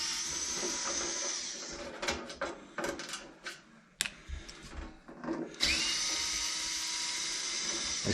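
A power screwdriver whirs as it backs case screws out of an Akai S2000 sampler, with long high buzzing runs broken by clicks and clatter of handling the screws, close up and alone.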